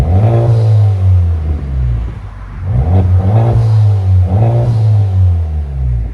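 Close-up revving of a turbocharged Honda Civic Type R through a straight pipe exhaust: three loud throttle pulls, each climbing and easing back, with a short dip near the middle and nobody speaking.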